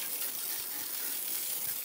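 A garden hose sprays water over a car wheel during a rinse, a steady, broad hiss of gushing water running continuously and fairly close, with no talking.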